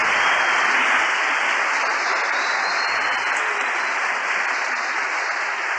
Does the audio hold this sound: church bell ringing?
no